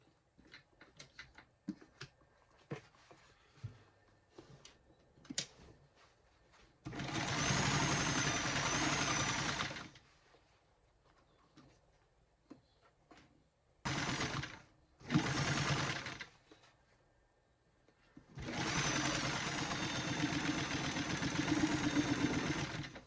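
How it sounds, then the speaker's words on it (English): A sewing machine stitches fabric into a doll, running in three loud bursts of steady whirring lasting a few seconds each, separated by quieter handling clicks and fabric rustles. "I didn't sew all the way down to the end"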